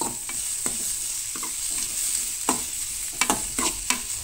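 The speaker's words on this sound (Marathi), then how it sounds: "तर आता लसूण आणि कांदो जो आसा न्हय तो परतून घेया" Garlic and onion sauté in a pan over medium heat, a steady hiss of frying punctuated by quick, irregular spatula scrapes and taps that cluster toward the end, close and without speech.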